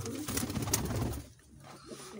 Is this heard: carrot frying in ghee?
no